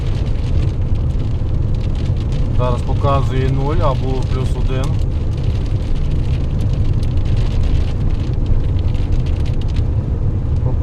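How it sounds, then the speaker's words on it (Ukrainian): A truck driving through small hail and rain, with a dense steady patter and road rumble on the cab. Someone speaks over it for a few seconds. "Ну, якийсь так якби дрібний град."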